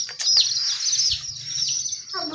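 Baby chicks chirp in a rapid, high-pitched cluster of peeps, close and fairly loud, with faint low background noise underneath.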